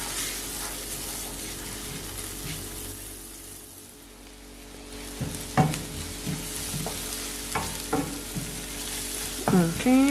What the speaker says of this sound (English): I'm gonna start by adding some butter. So I can saute